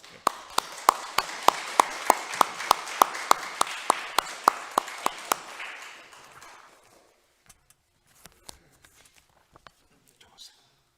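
A church congregation at a Friday worship and testimony service claps in steady unison, sharp regular beats for about five seconds before fading into scattered taps and shuffling in a quiet room.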